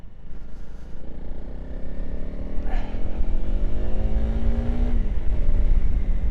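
A 2025 Honda CRF300 Rally motorcycle is ridden, its engine note rising through gears with clear upshifts, climbing pitch and a gear change near the end, loud and close, with no talking.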